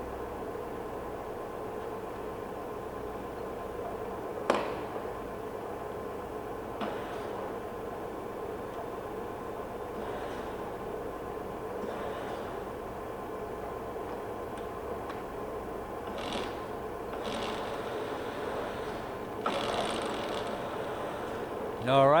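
Heavy-duty 53-inch by 120-inch Poreba lathe running its carriage power rapid traverse, a steady mechanical drone and whine with occasional clunks and ticks of the mechanism, moderately loud, with someone speaking.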